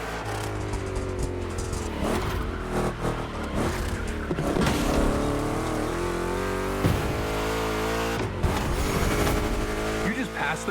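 Two big-block Chevy Camaro race cars in the driving game The Crew, engines roaring and revving continuously through gear changes, with brief tire squeal, loud and close throughout.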